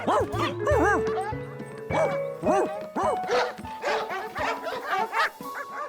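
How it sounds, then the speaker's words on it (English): A pack of cartoon dogs yips and barks nonstop, many high, bouncy yaps overlapping in quick succession with a few whimpers, bright and close. "The whole place was filled with strange dogs."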